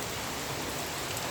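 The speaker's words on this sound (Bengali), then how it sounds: "বৃষ্টি যে পরিমাণ হইতেছে" Steady rain falls during a flood, a dense even hiss of drops pattering on surfaces and water, close and continuous with no voices.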